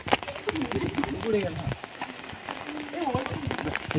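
Steady rain hisses throughout while people talk over it, the patter continuous and fairly close.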